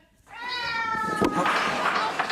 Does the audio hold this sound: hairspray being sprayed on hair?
no